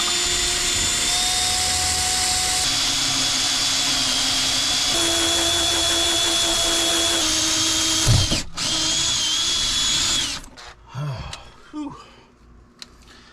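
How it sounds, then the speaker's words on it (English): A power drill with a half-inch bit whines steadily at close range for about ten seconds, then winds down and stops, followed by quieter handling noises. "This is a 1/2 inch drill bit. Just drill some holes here in the corner."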